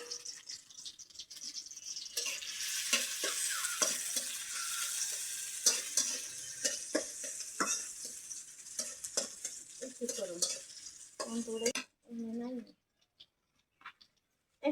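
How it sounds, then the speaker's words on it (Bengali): Chopped onion, green chili and garlic fry in hot oil in a wok, producing a steady bright sizzle with repeated scraping stirs. The sizzle fades toward the end, and a voice talks over it. "কড়াইয়ের মধ্যে তেল দিয়ে দিলাম, এখন দিয়ে দিলাম এই যে পেঁয়াজ কাটা রাখছি"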